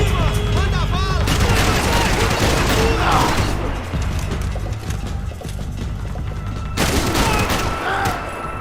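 Dense gunfire in the video game Max Payne 3: loud, continuous volleys of shots with booming impacts and a brief pause, amid chaotic game sounds.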